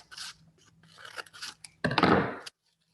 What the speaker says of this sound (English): you're going to cut from the crease up 3 times